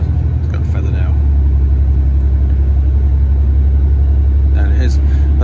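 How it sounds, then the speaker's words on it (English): A diesel train stands waiting at a signal on the line near Slaithwaite, giving a steady, loud low rumble of an idling engine that fills the whole stretch, with brief voices at the start and end. "That's our train for Cottingley."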